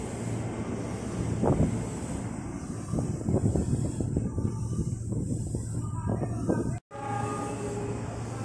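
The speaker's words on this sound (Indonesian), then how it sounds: "Itu dia kereta api Cikuray dengan 7 kereta ekonomi seat 22 80 penumpang dan 1 kereta makan pembangkit." Cikuray economy-class passenger train of seven coaches plus a dining-generator car rolling past, a rumbling run of rhythmic wheel clatter over steady wind buffeting the microphone, with a brief dropout near the end.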